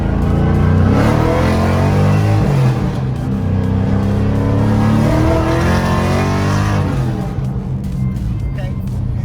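A Nissan 350Z with an LS engine swap, running lean, drives at partial throttle with a loud, steady engine drone that rises and falls slightly, heard close from inside the car.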